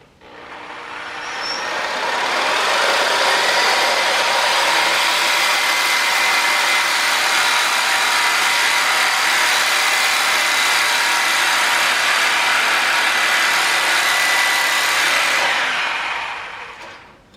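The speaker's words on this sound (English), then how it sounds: "start with the Sawzall and then work that in" Sawzall reciprocating saw cutting into a hard metal top spindle bushing on a Ford 7700 tractor, a loud harsh buzzing rasp that ramps up quickly, holds steady and close for about fifteen seconds, then stops.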